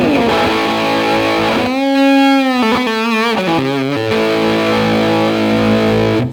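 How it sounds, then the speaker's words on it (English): Sustained electric guitar notes with the bridge and center pickups on and in phase, a full, warm tone and wavering bends, lightly overdriven, ringing steadily with no voices. "bridge pickup and the center pickup on and in phase with each other."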